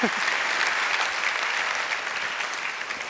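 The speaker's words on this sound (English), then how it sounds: "So let's cheer together." An audience at a live charity pitch event breaks into sustained, dense clapping that fills the whole moment at a steady, fairly loud level, with a voice faintly underneath.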